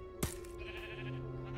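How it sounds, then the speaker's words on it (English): A sheep bleating in the video game Minecraft Story Mode, a single short wavering bleat after a sharp click, heard clearly with a steady background hum and no talking. "A sheep?"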